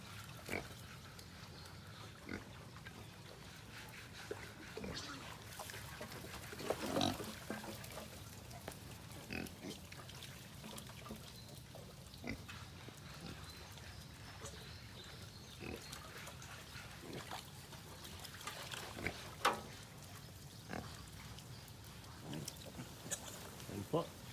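Sows and piglets on a pig farm grunt and squeal close by in scattered bursts over a steady background, with occasional water trickling near a bathing area and someone speaking in Filipino now and then.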